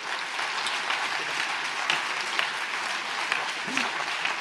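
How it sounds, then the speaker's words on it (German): Steady applause from an audience at a panel discussion, dense and even throughout, with a brief voice murmuring under it near the end. "Bravo, das ist dein Applaus"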